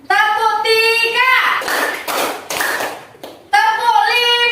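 Group hand clapping in short rhythmic bursts during an ice-breaking clapping game in a classroom, with a voice calling out between the bursts of claps.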